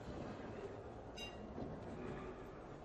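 Low, continuous rumble of a train in the Little Nightmares III video game, a steady rolling drone with a faint brief squeal partway through, no voices.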